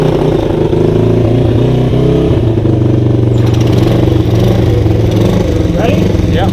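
Honda CT70 mini bike with a dual mode muffler runs close by, a loud steady engine drone that shifts pitch partway through, with people talking over it.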